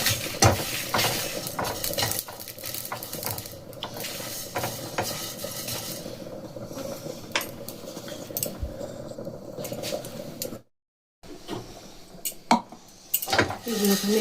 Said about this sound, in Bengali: দুটি এলাচ আর কয়েকটা লবঙ্গ, এগুলোকে এবার আমি ভেজে নিই।